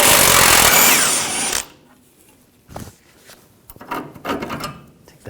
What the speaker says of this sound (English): Using a 21mm wrench and 21mm socket, take this nut and bolt out.